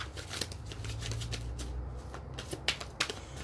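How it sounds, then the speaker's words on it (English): Tarot cards being shuffled close by, quietly: a steady run of soft papery flicks with a few sharper taps, and no one talking. "I'm going to shuffle the cards and then get straight into the reading"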